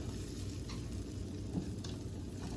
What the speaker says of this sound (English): So, you just want to stir it.